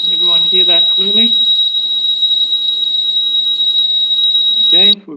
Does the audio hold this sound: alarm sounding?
yes